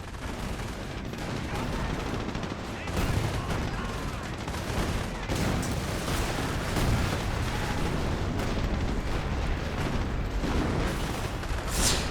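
StuG assault gun firing in Company of Heroes, with dense, continuous battlefield gunfire and booming shots layered over one another throughout, loud and sustained and punctuated by sharper blasts.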